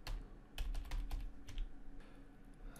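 Quick typing on a computer keyboard while editing an online shop's icon text, a close, steady patter of key clicks with a few louder taps, no voice over it.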